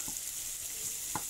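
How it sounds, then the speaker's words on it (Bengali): Onions frying in oil for tomato chutney, a steady close sizzle with soft stirring scrapes and a couple of brief clinks, no talking. "আমি পেঁয়াজটা ভেজে নিতেছি তেলের মধ্যে"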